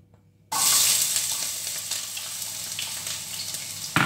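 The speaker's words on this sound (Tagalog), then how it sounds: "Lagyan na natin ang sibuyas." Chopped onion dropped into hot cooking oil in a home kitchen, bursting into a loud, steady sizzle after a short quiet start and crackling on without pause.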